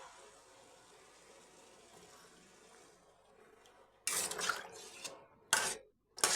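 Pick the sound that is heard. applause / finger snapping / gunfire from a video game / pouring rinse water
pouring rinse water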